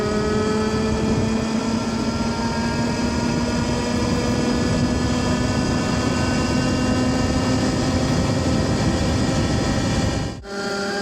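The engine of a Vipcoo H3 mini supermoto revs steadily upward, a loud, close, buzzing whine whose pitch climbs evenly for about ten seconds, then cuts off abruptly near the end.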